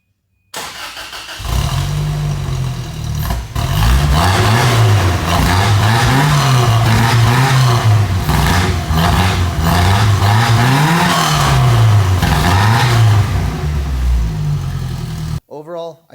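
A 4-cylinder Toyota 3RZ engine in a Sunrader motorhome, fitted with a new muffler, cranks, catches and revs repeatedly in rising and falling swells close by, then cuts off abruptly, with a voice briefly heard.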